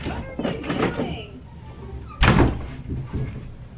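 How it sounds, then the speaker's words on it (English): A door indoors is handled with a couple of light knocks and rattles, then one loud, close thump as it swings or bangs open, with people talking around it. "Let me come open the door."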